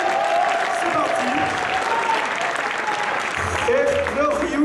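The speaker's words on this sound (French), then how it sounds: "tonnerre d'applaudissements" Dense applause fills the whole clip, a steady wash of clapping from a crowd at a Street Fighter 3 tournament final, with a voice speaking over it at times.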